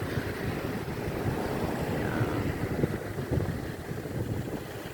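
Waves washing over a rocky seashore, a continuous broad rushing wash mixed with wind buffeting the microphone, with no voices.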